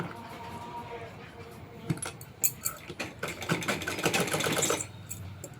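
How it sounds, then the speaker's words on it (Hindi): A sewing machine stitches blouse sleeve fabric in short irregular bursts that grow busier and louder toward the end, with clicks and rattles over a low steady hum, no talking. "इसी तरह रख के इस तरफ भी सिलाई लगा देनी है।"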